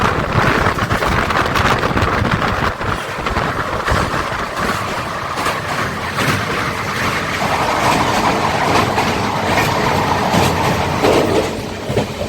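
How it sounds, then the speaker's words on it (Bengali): Kamrup Express, an Indian passenger train leaving New Bongaigaon station on a curve, rumbles steadily along the rails with continuous broadband wheel and carriage noise, buffeting wind and faint clatter throughout. "আমরা যাচ্ছি আপ কামরূপ এক্সপ্রেসে"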